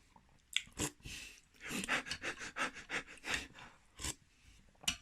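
A person demonstrates breathing slowly, drawing about five deliberate breaths, each a soft, close, airy rush separated by short pauses, with no talking.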